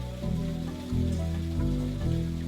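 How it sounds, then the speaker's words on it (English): Rain falls steadily in the video game The Roottrees are Dead, a dense, continuous wash of patter over a low, sustained musical drone. "there's rain in the game and I thought water was outside the game in my apartment"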